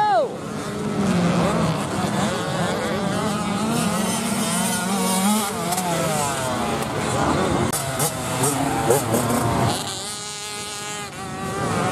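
An 85cc racing vehicle's small engine revs at Galesburg, whining and buzzing as its pitch rises and falls through the gears, with people talking over it.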